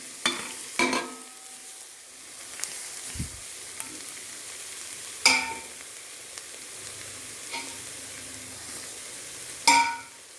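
Tomato and onion masala with chili, coriander and turmeric powders sizzling steadily in a pan, with a few sharp spoon scrapes and clanks as it is stirred; no talking.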